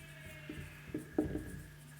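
Pen or marker writing "simple interest" by hand on a board or paper during a maths lesson, a few short scratchy strokes spaced across two seconds, faint and close with no talk.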